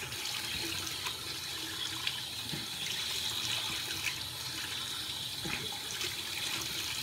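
A bathroom sink tap runs steadily with a soft hiss while water splashes as a face is rinsed, close and continuous with no talking.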